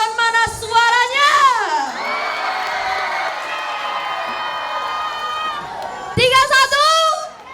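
Audience at a school fashion show celebration shouts and cheers loudly, a sustained crowd roar with children's high-pitched whoops swelling at the start and again near the end.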